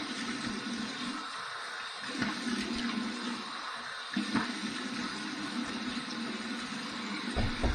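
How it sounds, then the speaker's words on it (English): Warm water runs steadily from a tap while rinsing after a shave, a continuous close hiss and splash with slight fluctuations and no talking. "here's my warm water rinse"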